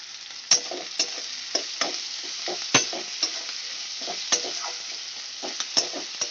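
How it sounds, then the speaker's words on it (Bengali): Steady sizzling of onions frying in hot oil, with repeated soft clinks and scrapes of a utensil stirring in the pan, close up and without talk. "পেঁয়াজটা আমি লাল করে ভেজে নিচ্ছি"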